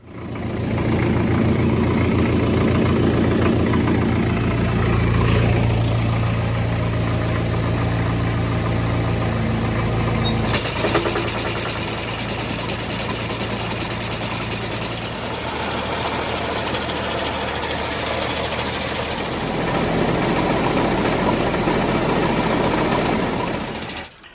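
A Ferguson TE20 tractor engine idles with a steady, rapid mechanical chugging and rattle that stays constant throughout, shifting slightly in tone partway, with no talking.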